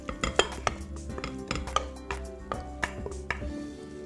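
A spoon scrapes and taps as Christmas pudding mixture goes into a 2-pint pudding dish, with irregular clinks and thuds of cutlery on the bowl, close up and steady.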